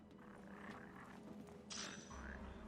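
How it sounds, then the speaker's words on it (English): A frog croaks in the video game Final Fantasy XV. The croaks are faint and low, heard over a soft ambient game background. "There is a frog."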